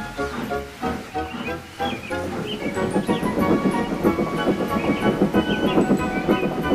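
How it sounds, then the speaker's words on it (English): A train pulls a line of coaches in a story sound effect, with rhythmic clickety-clack of wheels building steadily to a busy, rumbling run, moderately loud with no talk. "Once the train was moving, the coaches followed smoothly."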